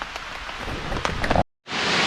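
Steady rain patters densely and close by, with a few louder drops, then cuts out briefly before the downpour resumes.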